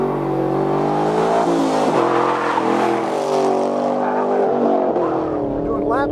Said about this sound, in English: We're doing lap 5 in the Camaro 1LE. It's got the 420 horse V8, pulls really well on the straightaways